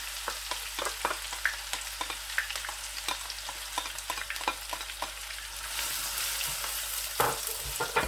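Onions fry in a cooked maash dal paste, a close, steady sizzle broken by regular scraping stir strokes, with the frying growing louder and brighter near the end.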